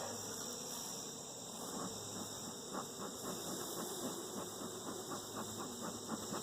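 Honeybees at a young hive during an inspection, a dense steady drone of buzzing wings close by with faint clicks and rustles mixed in, no speech.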